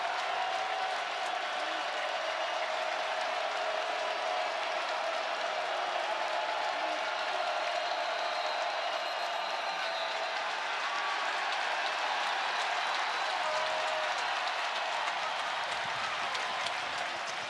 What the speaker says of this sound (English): And now this crowd is alive on 3rd down.